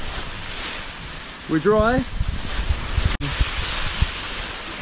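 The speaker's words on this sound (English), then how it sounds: "it's tipping it down" Heavy rain pours down outdoors during a UK barn-find Classic Mini Cooper repair, a steady close wash of broadband noise with a brief voice speaking over it.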